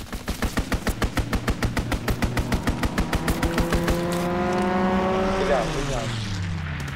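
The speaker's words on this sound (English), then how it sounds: "Strafing run inbound." Rapid rhythmic gunfire from a strafing run hammers through a video game match, a dense string of evenly spaced shots that gives way to a roaring aircraft pass sweeping downward in pitch.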